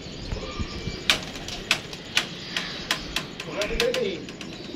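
Teddy pigeons in a loft give soft cooing and low bird sounds amid sharp repeated clacks and wing flutters, with someone talking over them.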